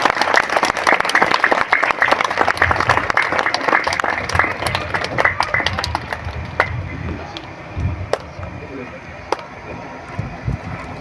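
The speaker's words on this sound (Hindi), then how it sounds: "सारे बच्चों से मैं कोशिश इल्तमास करूंगा कि ताली बजाएं" Children clapping at a school as a teacher arrives for an Independence Day event, a sustained burst of dense applause from a crowd of kids that thins out toward the end, with voices mixed in.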